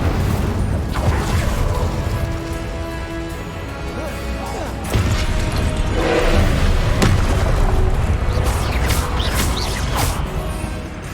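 An Incendio fire spell goes off in Hogwarts Legacy, with loud booming blasts and crashing impacts running continuously under game music and effects.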